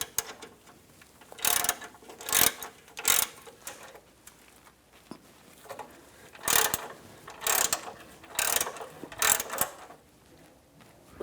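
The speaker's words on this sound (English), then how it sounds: "Now we're going to tighten these nuts down." Bursts of quick ratcheting clicks as nuts are tightened on the air suspension compressor of a 2007-2014 Cadillac Escalade ESV, in several short runs separated by pauses, close and fairly clear with no talking.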